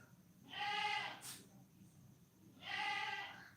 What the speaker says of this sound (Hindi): मैं अपनी बकरी को चुप करवा के आ जाऊं या तो उसे पकड़ के ले आती हूँ